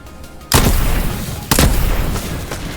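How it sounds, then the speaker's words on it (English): Two heavy booming shots from a dragon breath incendiary sniper rifle in a video game, loud and close, about a second apart, each with a long rumbling tail and no talk. "Holy crap, a dragon breath sniper."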